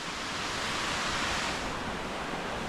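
Silver Waterfall in Sapa, over 100 meters tall, a dense, steady broadband roar of falling water, loud and unbroken throughout with no talk.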